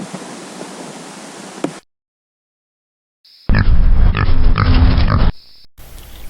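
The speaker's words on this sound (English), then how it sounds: "Feral pigs." Feral pigs of a lineage close to Berkshire and Tamworth pigs, in Australia, give a short burst of loud, close grunting and snorting between stretches of broad noise, with a silent gap before it.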